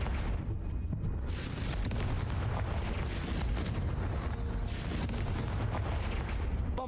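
Repeated Confringo fire-spell blasts in Hogwarts Legacy on PC, heavy rolling booms and crackling bursts piling into a loud continuous barrage across the clip, with no talk.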